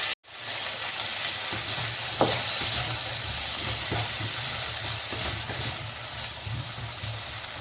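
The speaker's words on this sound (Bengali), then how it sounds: "সেই জন্য আমি এই ক্যাপসিকাম আর পরে পেঁয়াজ দিয়ে এটাকে হালকা সতে করে নেব।" Capsicum and onion sautéing in a pan over a medium gas flame, a close continuous sizzle and hiss with occasional light stirring taps, no talking.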